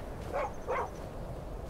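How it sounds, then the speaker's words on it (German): A dog in the video game Skyrim Special Edition gives two short barks, close and moderately loud, spaced a fraction of a second apart over faint background game ambience. "Nein, das ist nur ein Hund."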